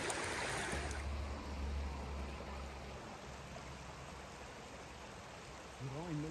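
River water pours over the crest of a beaver-style dam, making a broad, continuous rushing hiss that is loudest at the start and then settles into a steady, moderately distant flow.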